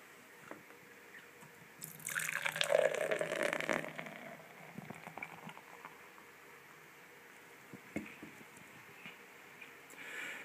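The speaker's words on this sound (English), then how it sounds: "let's pour this into a glass" Sapporo Mugi to Hop black beer is poured from a can into a glass, a quiet close gurgle and fizzing splash for a couple of seconds, then faint drips and settling foam.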